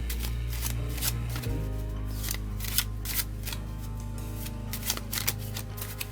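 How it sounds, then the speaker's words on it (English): A Nightmare Before Christmas playing card deck is shuffled, giving repeated crisp riffling bursts, close and fairly quiet, over a low steady background hum. "So let's shuffle and see what I get for this."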